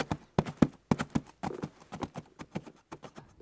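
Horses walking with hooves clip-clopping, a quick, uneven run of sharp knocks close by, loud and continuous over a few seconds with no talk.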